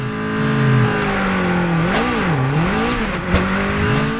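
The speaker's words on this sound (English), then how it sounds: "the motor sounds the same, because this has the same inline 4 as all the cars come with" An inline-4 car engine in the video game Super Street The Game revs loudly while drifting, its pitch swooping up and down as the throttle is worked, with a brief tire squeal near the end.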